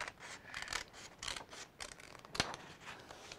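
Scissors snip through paper for a children's collage, a series of short crisp cuts in an uneven rhythm, close and fairly quiet, with one sharper snap near the end.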